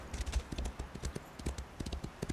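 Horse hooves clip-clopping in a quick, steady rhythm in The Elder Scrolls Online, close and clear with no talking.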